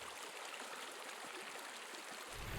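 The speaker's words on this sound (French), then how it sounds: "s'il y a de l'eau dans la rivière, c'est parce qu'il y a ces sources qui coulent" Water runs steadily through an underground river fed by karst springs near Marseille, a dense, even rushing with no voices, at a constant level throughout.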